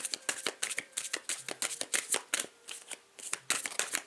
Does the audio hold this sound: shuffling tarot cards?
yes